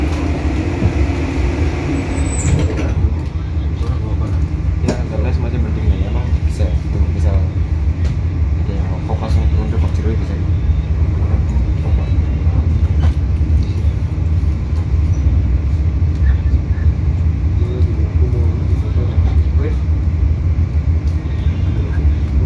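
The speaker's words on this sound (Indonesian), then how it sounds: "Diberangkatkan kembali dari stasiun Leles." A Ka Serayu night passenger train pulls away from Leles station with a loud, steady low rumble and rolling wheel noise that continues throughout, with faint clatter above it.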